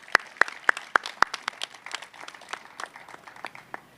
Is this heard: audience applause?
yes